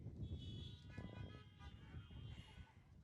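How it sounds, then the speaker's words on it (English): Car horns honking from vehicles parked at an outdoor drive-in annual meeting of electric co-op members, several overlapping toots over a steady engine and crowd rumble, with faint voices mixed in. "Please honk your horn to second the motion."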